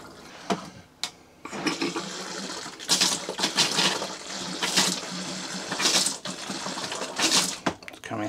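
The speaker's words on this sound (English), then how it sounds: "Let's switch this tap on." Water runs steadily from a motorhome cold tap with a rushing, hissing flow, pulsing slightly as it surges, close and fairly loud with no talking.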